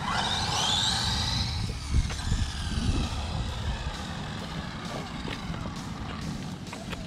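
A WLtoys A959 RC car, bought for $3.50, drives fast outdoors, its small electric motor whining with a rising pitch at the start and then fading into a steady rumble of wheels on the ground.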